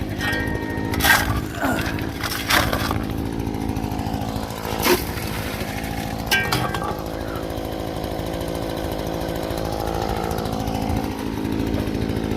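A gold prospecting dry washer runs on a dry old bench above a creek, its motor making a loud steady engine drone throughout, broken by a few sharp knocks and scrapes of dirt being loaded.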